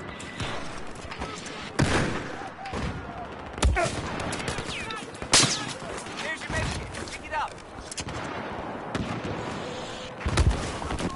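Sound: gunfire in the video game Battlefield 4

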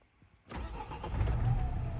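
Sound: Renault Trafic 2013 2.0 diesel engine starting

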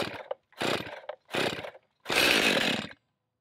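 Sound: Stihl MS271 chainsaw being started with choke

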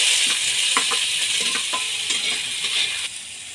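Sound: eggplant frying in oil

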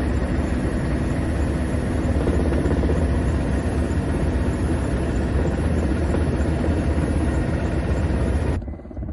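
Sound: firefighting helicopter over a forest fire

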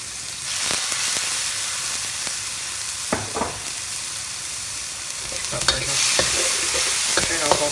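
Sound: Chinese cooking wine sizzling in a wok with chicken

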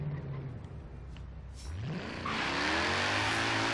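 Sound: Mercedes C63 engine revving at launch, video game Forza Horizon 3

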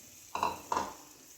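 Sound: spatula stirring raw turmeric curry in a pan

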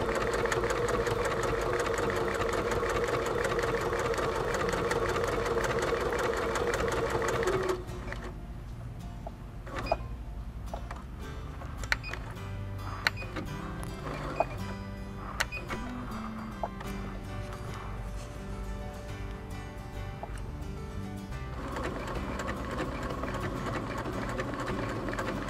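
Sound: Baby Lock Quest Plus quilting machine stitching appliqué

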